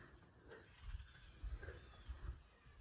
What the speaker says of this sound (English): Is that a frog, a toad?